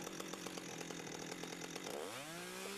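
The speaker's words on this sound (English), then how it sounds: "A kerf is just a single chainsaw cut." A chainsaw cuts a single kerf into a log for log construction, a steady loud whine throughout that shifts pitch near the end as the engine changes speed.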